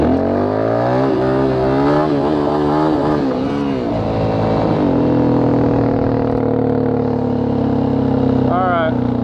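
A Yamaha WR450F dirt bike revs hard and loud in second gear while pulling a wheelie, its engine pitch climbing and falling in repeated surges before settling into a steady drone.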